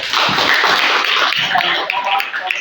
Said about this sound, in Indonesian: Saya tepuk tangan dulu buat kelompok ini ya.